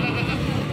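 A breeder goat at the Lahore livestock market gives a short, loud bleat amid crowded market noise and nearby voices.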